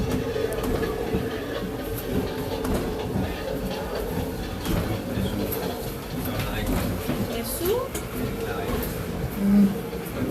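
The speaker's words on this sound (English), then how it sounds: "the train's moving, folks. They have it on hydraulics." A museum train car rocking on hydraulics, with steady rumbling, rattling and creaking under a constant mechanical drone as people talk over it.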